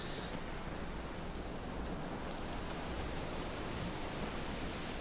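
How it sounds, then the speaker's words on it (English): Steady rain pours in Assassin's Creed IV: Black Flag, a dense, even hiss with a low rumble underneath that holds unbroken from start to finish. "Oh, it's raining."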